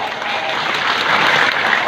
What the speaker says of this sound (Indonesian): tepuk tangan buat santri saudara saya